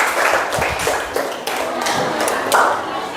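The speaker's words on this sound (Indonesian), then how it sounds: "tepuk tangan buat kita semuanya." Classroom clapping from a group of students, a rhythmic run of sharp, close handclaps that rises and falls in several bursts over a few seconds.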